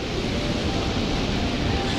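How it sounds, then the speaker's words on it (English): Fast-moving water flowing outdoors, a steady broadband rush that holds level and close throughout with no pauses and no voices. "The water moves kind of quick here"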